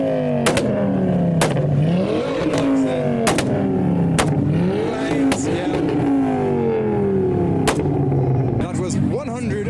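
A Ford Focus ST revs hard and repeatedly at a rev battle, each rise ending in sharp pops and bangs. The engine is loud and close, with the crowd and a commentator heard around it.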